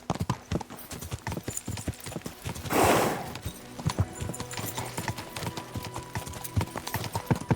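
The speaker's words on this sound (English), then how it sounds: "Easy, good horse." Hooves of a horse in the video game Kingdom Come: Deliverance II clatter in a quick, uneven galloping rhythm, close and clear, with a short whinny or snort bursting out near the middle.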